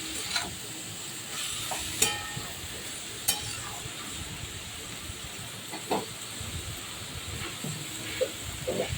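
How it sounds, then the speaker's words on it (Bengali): Banana flower sizzles with spices in a pan, a steady frying hiss broken by sharp scraping clicks of a spatula stirring every few seconds. "দেখুন মোচাটা আমার কত সুন্দর কষানো হচ্ছে"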